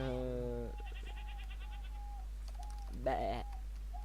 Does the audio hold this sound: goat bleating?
yes